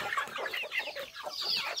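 A flock of chickens eating corn on a small farm in the early morning clucks and chatters busily and continuously at close range, with no talking.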